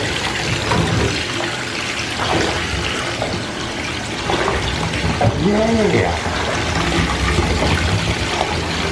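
Tap water running to fill a bubble bath for a monkey, a steady loud rush of pouring water with people talking over it.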